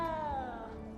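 A small cat meows in the video game Hogwarts Legacy, one drawn-out harmonic cry that slides downward over a second, close and clear above a low game soundscape.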